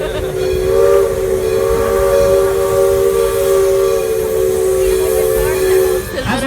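A loud, steady roar of venting steam hisses for several seconds during the blowdown of a nearby narrow-gauge steam locomotive at Roaring Camp, with a sustained whistle-like tone running underneath.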